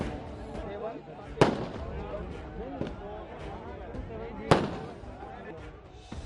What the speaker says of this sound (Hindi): यहाँ आतिशबाजी भी की गई